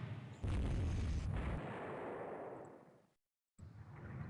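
A torpedo hit explosion in the naval game Rule The Waves 3: a sudden loud low boom that rumbles and fades over a few seconds, followed by a brief cut and renewed rumble.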